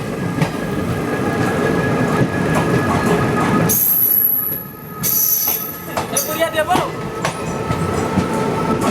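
Train wheels squeal and rumble as an Indian express train passes a crossing point, a loud close roar with high metallic screeching, a brief sharp gust as another train rushes by, then rhythmic clatter; a voice is faintly heard.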